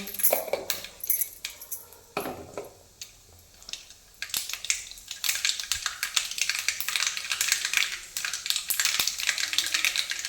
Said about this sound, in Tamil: எண்ணெய் காஞ்சதுக்கப்புறம் கொஞ்சமாக கடுகு போட்டுக்கோங்க